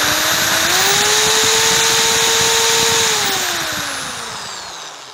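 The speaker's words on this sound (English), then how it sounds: "I've already connected the drill machine to the vacuum cleaner motor" A high-pitched electric drill motor, coupled to a vacuum cleaner motor, whines steadily at full speed, then winds down with a falling pitch as it slows, no voices present.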